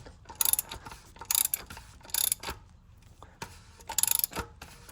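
A ratchet wrench tightens the oil drain plug on a Kia during an oil change, giving several short bursts of rapid clicking separated by brief pauses, close and fairly loud.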